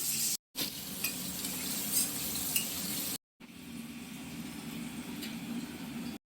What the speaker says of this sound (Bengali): এবার ভেজে নেওয়া হচ্ছে আলু